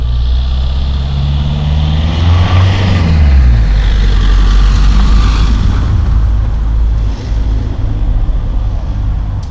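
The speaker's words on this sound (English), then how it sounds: "the truck becoming louder and getting quieter as it drives by" A truck passes by outdoors, its low engine rumble swelling to a peak and then fading as it moves away, with wind noise and no talking.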